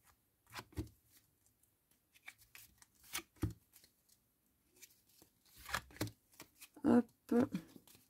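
Tarot cards are shuffled by hand for a nine-card draw, with bursts of riffling and snapping card edges spread across the span, growing louder and denser toward the end, close up with faint talk in between.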